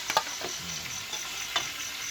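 Chicken offal fries in a pan, a steady close-up sizzle and hiss with a few sharp clinks of stirring, and no voices.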